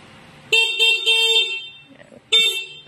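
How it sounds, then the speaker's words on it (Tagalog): The horn of an Explorer 400cc 4x4 ATV honks close by, a sustained buzzing blare in pulses, then a pause and one more short honk. "Busina."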